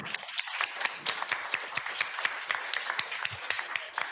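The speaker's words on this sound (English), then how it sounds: "So I ask you a round of applause for it." Moderate applause from a small audience after a panel talk at a creative industries event, with distinct individual claps in a loose, continuous patter.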